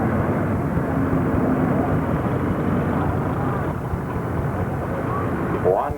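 A Farmall 350 tractor engine roars at a tractor pull, a loud, steady, rumbling drone throughout, with an announcer's voice over the PA.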